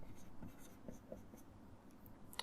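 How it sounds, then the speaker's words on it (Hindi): Chalk or marker moves across a board in a math class as a trigonometry ratio is written out, a short run of faint, scratchy strokes heard close and quiet with no speech. "थोड़ा नीचे लिखते हैं, sin A"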